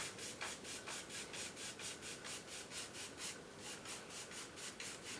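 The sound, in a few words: brush crisscross strokes of oil paint on canvas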